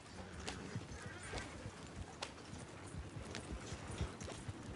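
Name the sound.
horses clip-clopping and neighing in the video game Red Dead Redemption 2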